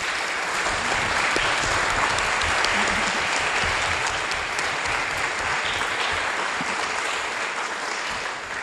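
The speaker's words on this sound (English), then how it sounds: "I'd like a big round of applause for our speakers" An Earth Day symposium audience in Nahant gives the speakers a big, steady round of applause, loud dense clapping that holds for the whole stretch and eases only slightly at the end.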